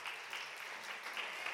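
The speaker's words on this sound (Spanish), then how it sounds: "Dale un aplauso a Dios." A church congregation gives a faint, brief burst of distant applause, a soft, even patter of many hands.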